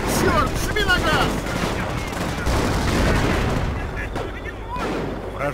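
Gunfire in the Company of Heroes game comes as dense, rolling bursts of shots and heavy booms. Game voices shout and talk over the noise.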